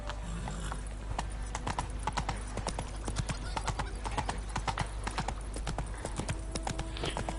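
Roach the horse gallops in The Witcher 3, with a fast, steady run of hoof clip-clops over a constant low game rumble and a brief snort or whinny partway through.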